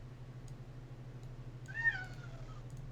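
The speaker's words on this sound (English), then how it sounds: "There's a cat on the other side." A cat meows once, a short rising-and-falling call at moderate distance, over a quiet low hum with faint clicks.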